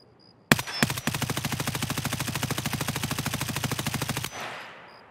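Automatic gunfire in the game Escape from Tarkov: after two single shots, a long, loud, rapid burst of evenly spaced rounds lasts about three and a half seconds, then cuts off into a fading echo.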